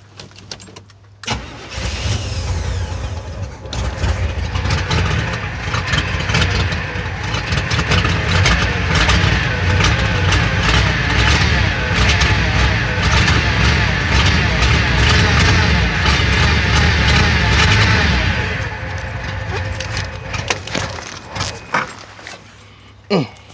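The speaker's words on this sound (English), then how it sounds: "trying to get me a cold start going, man" A Chevrolet Monte Carlo's engine cranks and fires on a cold spring morning, then runs loud and rough at a fast idle for most of the stretch before the motor is shut off, with someone talking over it at times.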